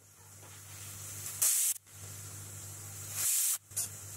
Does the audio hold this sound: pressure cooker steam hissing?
yes